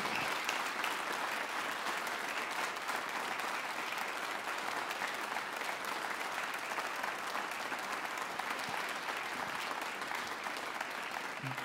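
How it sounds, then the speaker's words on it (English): Sustained audience applause for a wind ensemble at a concert, a dense, steady wash of many hands clapping at even loudness throughout, with no voices standing out. "Please give them another round of applause for that."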